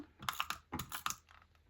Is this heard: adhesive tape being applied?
yes